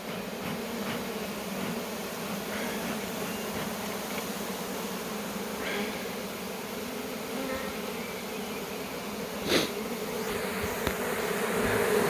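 A swarm of honeybees in April buzzing, a dense continuous hum from many bees close by, with a few louder passes as single bees fly near.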